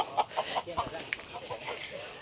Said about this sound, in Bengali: This chicken laughing.